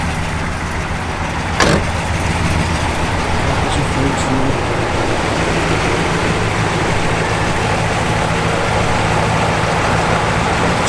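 1971 Oldsmobile Cutlass SX convertible with a 455 V8 idling: a steady, close low rumble that continues throughout, with a brief click near the start and a person talking over it.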